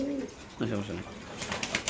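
A Teddy pigeon in a market cage coos in a few short, low throaty phrases, close by, with someone talking and ambient market noise around it.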